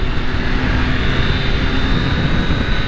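A 2020 Triumph Daytona 765 motorcycle pulls away smoothly under way, its engine a steady, loud drone mixed with heavy wind rush and no speech.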